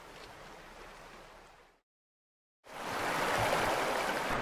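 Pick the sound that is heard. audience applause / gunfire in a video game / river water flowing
river water flowing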